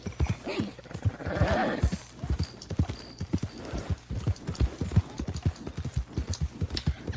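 Horse in Red Dead Redemption 2, steady clip-clop of hooves with a whinny early on, close and clear, with faint speech in the background.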